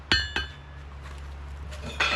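Hammer blows from a 4-pound hammer with a duct-tape handle forging a 51-layer Damascus knife billet, two sharp metallic strikes close together at the start and another near the end, over a steady low forge hum.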